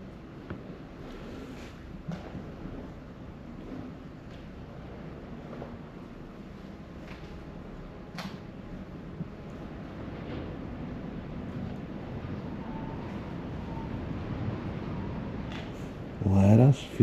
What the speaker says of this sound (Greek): Ο αέρας φυσάει λυσασμένα έξω.